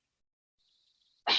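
A single loud, sharp sneeze bursts out close by in a quiet room, preceded by a faint breathy hiss.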